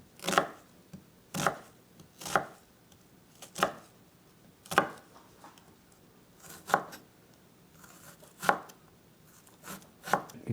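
A knife chops yellow onion very finely on a board, making about eleven crisp, distinct chops at a fairly even, unhurried pace, close and clear with no talk.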